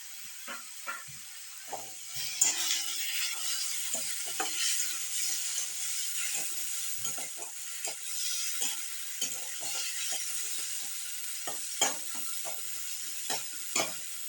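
A single tomato fries in a pan for spinach gravy, giving a soft continuous sizzle with scattered scraping clicks of a stirring spoon, fairly quiet and steady with no talk.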